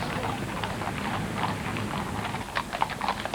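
Horses' hooves clip-clop on a road as the King's Troop leads a royal funeral procession with Welsh Guards pallbearers, rhythmic scattered hoof strikes growing clearer toward the end over a steady outdoor background.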